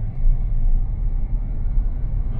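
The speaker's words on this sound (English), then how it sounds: "I'm gonna turn up the AC just a tiny bit more." Cybertruck air conditioning fan running on high, giving a steady low rumble and a whoosh of airflow that holds constant and close throughout.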